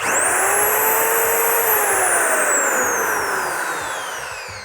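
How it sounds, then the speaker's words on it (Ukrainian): A Procraft POB1200H handheld wood router starts up, its motor whine sweeping up to a loud, high-pitched steady scream near 30,000 rpm, then tapering slightly as it runs alone. "Максимальна кількість обертів, що видає фрезер, 30 тисяч. Вмикаємо."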